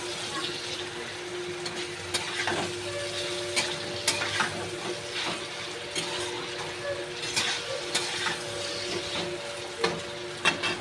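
Chicken pieces fry in a pan with a steady, moderate sizzle, broken by irregular spoon scrapes and taps. No one speaks.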